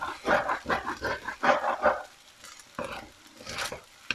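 Shrimp fried rice mixed with sugar, seasoning powder and light soy sauce in a pan, giving repeated scraping stir strokes over a soft sizzle, close by, with a few brief pauses between bursts.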